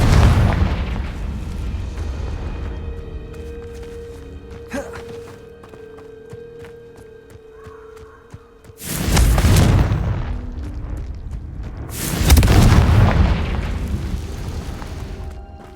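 Confringo fire spells in the Hogwarts video game go off as two loud, booming explosions a few seconds apart. A quieter stretch of game ambience and footsteps comes before them.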